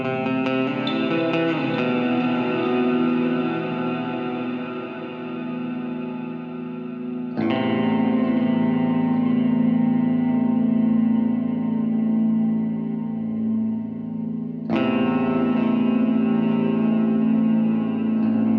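Distorted heavy metal electric guitar plays sustained chords that ring out with rhythmic delay repeats, restruck in a steady pattern three times.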